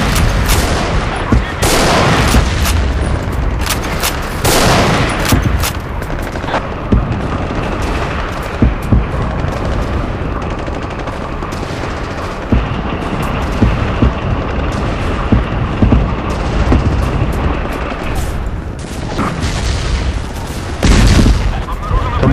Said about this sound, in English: Throwing in satchels, guys. A lot of grenades.